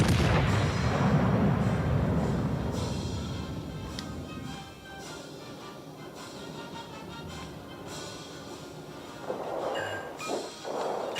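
Naval guns fire shells in World of Warships: Legends, a heavy booming salvo that swells loud at first then fades into a low rumbling tail, with a further thud and softer reports later.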